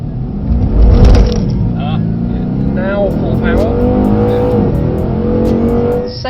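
Mercedes-AMG car, a C63 S, E63 S or GT, pulling hard at full power on a track, its engine note rising steadily and loud from inside the cabin while people talk over it.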